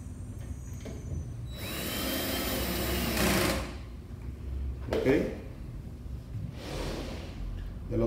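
Cordless drill fastening a straight base plate for a Blum Aventos HF lift mechanism, heard as a loud whirring burst lasting a couple of seconds, followed by shorter whirs, with someone talking over it.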